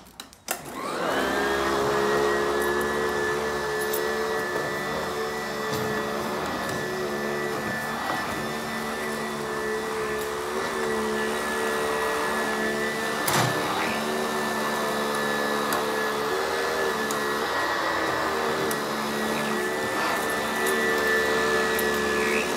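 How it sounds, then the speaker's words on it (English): A commercial vacuum cleaner runs steadily and loudly on commercial-grade carpet at close range with a constant motor whine, briefly spiking midway, with no talking. "just vacuum around the table."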